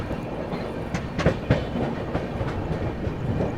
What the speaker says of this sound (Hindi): फिलहाल अपनी ट्रेन जो है नेताजी सुभाष चंद्र बोस गोमो स्किप करने जा रही है।